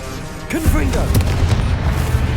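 A Confringo fire spell blast in the video game Hogwarts Legacy, a short booming burst with crackling after it, loud and close against ongoing game sound, with a voice calling out over it.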